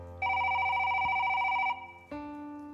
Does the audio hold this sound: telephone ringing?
yes